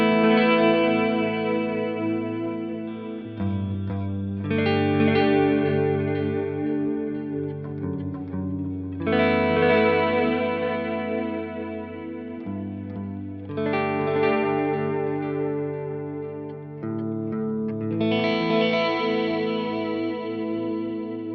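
Guitar chords ring out through a delay effect from an Axe-FX III, with repeats trailing each strum. Phrases swell and sustain in waves across the clip, played alone with no talking.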